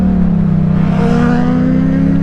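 A 2014 Yamaha MT-07 motorcycle engine drones steadily and loudly while being ridden with a group, holding an even, close-up tone throughout with no talking.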